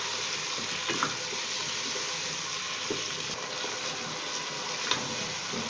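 Potatoes for dhaba-style aloo gobi fry in a salted pan, producing a dense continuous sizzle with a few faint utensil knocks scattered through it; close and steady, no talk.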